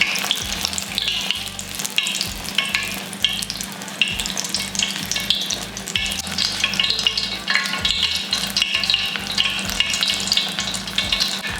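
Apple fritters (beignets) frying in hot oil, a steady loud crackling sizzle throughout with occasional stirring, no talk.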